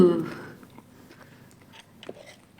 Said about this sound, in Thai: มันคุยยังไม่ได้เพราะว่ามันคำใหญ่ ต้องกินเข้าไปก่อนแล้วค่อยพูด